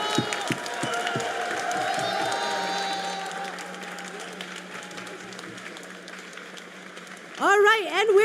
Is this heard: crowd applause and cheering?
yes